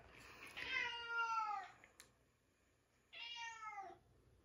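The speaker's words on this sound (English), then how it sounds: "That's my cat." A cat meows twice nearby, a long drawn-out cry followed after a pause by a shorter one, in an otherwise quiet room.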